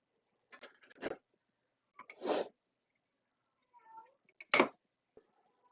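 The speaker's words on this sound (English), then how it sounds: "The cats are really frisky at the moment because of the babies." Cats give a few short, scattered meows and sneeze-like bursts close by in a quiet room, with gaps of silence between each sound.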